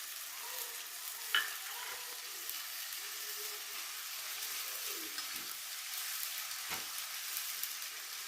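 Ground tomato paste fries in a pan, giving a steady close sizzle, with occasional scraping strokes of a stirring spoon across the pan.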